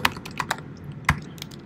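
Typing on a computer keyboard during a coding live stream: a run of sharp, uneven key clicks close to the microphone, with no voice over them.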